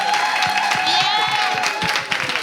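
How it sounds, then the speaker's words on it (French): Audience applause and some cheering at a live comedy show, running steadily beneath a steady tone and rhythmic low thumps, fairly loud and continuous. "Applaudissez pour lui"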